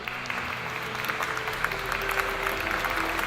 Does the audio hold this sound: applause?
yes